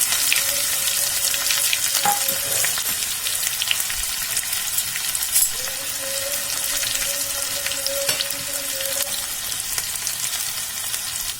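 A small chopped onion frying in hot oil with ajwain for dhaba-style curry pakoda, a continuous crackling sizzle with occasional spoon taps and stirs, close and steady with no voices.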